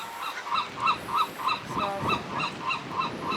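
A flock of birds calling in a steady, repeated chorus at Alcatraz at night, many calls overlapping at a fairly even rhythm, with some rustling and low background noise.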